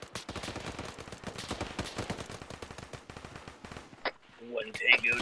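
Rapid, sustained gunfire in the military shooter game Arma 3, loud bursts of automatic shots filling most of the stretch, then thinning out as a voice speaks near the end.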